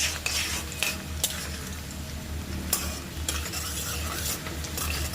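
Ginger fries in hot oil for a pickle, the spoon stirring and scraping against the pan in a steady close sizzle with repeated metallic clinks.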